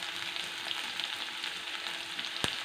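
Bitter gourd sautés in a pan with salt, giving a steady close hiss and crackle of frying with faint stirring and one brief sharp clack near the end.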